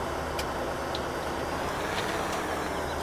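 A tractor engine idles steadily in Farming Simulator 17, making a constant low diesel rumble with broadband hum and no change in speed or revving.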